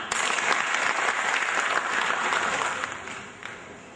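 Loud, dense applause from a packed hall at a political gathering, a sustained wash of clapping that holds for several seconds and then gradually thins and fades toward the end.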